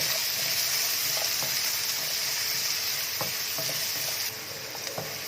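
Finely chopped onion fries in hot oil with already-fried garlic and cumin, giving a continuous close sizzle broken by a few light stirring clicks. The hiss eases slightly near the end, and no one speaks.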